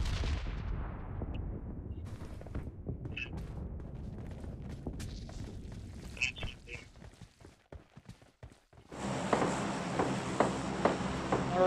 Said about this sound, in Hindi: तभी अपार्टमेंट की तरफ से फायर आती है